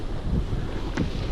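Wind buffeting the microphone outdoors while kayaking on water, a loud, low rumbling gust that persists throughout the short moment.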